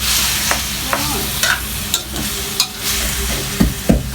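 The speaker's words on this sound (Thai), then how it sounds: "คั่วให้มันเข้าเนื้อเข้าเกลือ เข้าพริก ให้มันหอมฉุนก่อน" Thai kaeng khae curry being stir-fried with salt and chili in a hot pan: a steady close sizzle with scraping stir strokes at irregular intervals, no voices.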